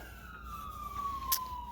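A faint, distant emergency-vehicle siren holds one long wail that slides slowly downward, steady and far off under a low background hum.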